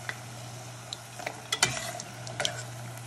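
Okra frying in a small amount of grease, a steady soft sizzle with occasional sharper crackles and light scraping knocks of a utensil against the pan, close by with no talking.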